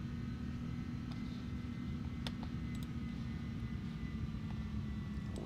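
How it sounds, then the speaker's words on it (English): An inibuilds A310 airliner in Microsoft Flight Simulator hums with a faint, steady engine drone and tonal whine, joined by a few quiet clicks. "Let's bring the sounds up so you all can enjoy the beautiful A310 sounds."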